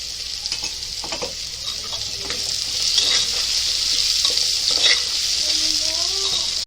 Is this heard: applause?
no